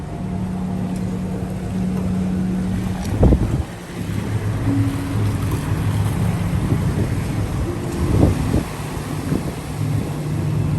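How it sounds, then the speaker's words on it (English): Strong wind buffets the microphone on a cruise ship deck in rough, rocky seas, a steady roaring rush with heavier gusts and low thumps, steady throughout. "It's very windy, very rocky seas"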